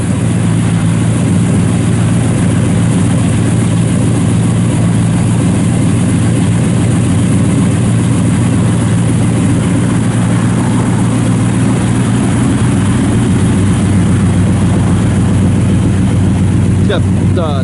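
A 1966 Chevrolet Nova II SS with full dual exhaust idles right after firing up. The engine makes a loud, steady, deep rumble that continues without a break.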